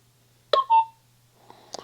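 A budget Codnida 5MP solar PTZ outdoor Wi-Fi security camera gives a short electronic chirp after scanning a QR code, a quick two-part beep followed by a fainter, softer blip, near and clear over a low hum.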